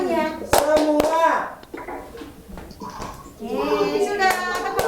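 Children in a virtual class clap their hands along to an action song, a few sharp claps standing out among the kids' singing voices and a leading adult voice.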